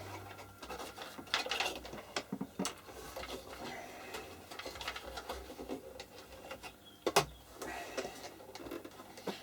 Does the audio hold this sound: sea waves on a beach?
no